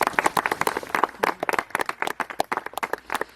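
Audience clapping for Méline at the Château des Roure giant-shooting event, a dense burst of many hands applauding steadily for a few seconds, fairly close, with no talk over it.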